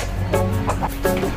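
A few short clucks from chickens, close by, over a steady low background hum.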